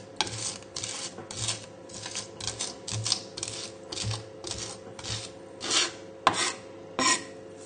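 A knife blade rasps as it mashes garlic with salt into a paste, giving a series of gritty scraping strokes in an uneven rhythm, close and moderately loud with no talking.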